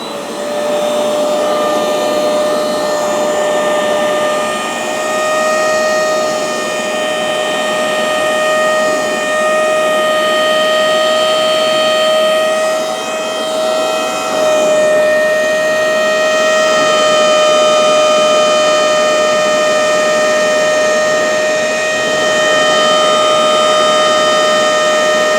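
A Hoover CleanSlate Pet FH14051 carpet spot cleaner running continuously, a loud steady motor whine with a sustained high tonal hum throughout.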